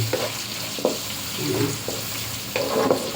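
Onions and garlic frying in a pan, with a steady close sizzle broken by several stirring scrapes and clatters over about three seconds.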